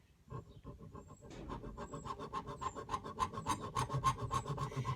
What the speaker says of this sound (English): Then I'm going to take my hacksaw, score a little line there.